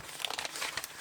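Crinkling of photorealistic autumn-themed card-making paper being handled, a close, fast run of crisp rustles and crackles lasting about a second.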